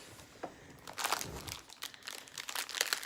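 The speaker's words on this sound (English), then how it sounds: "sorry about the crinkling" Plastic packaging crinkles and crunches in irregular bursts while a Tom Brady figure is unboxed from a Color Whisper store order, close and moderately loud with no talking.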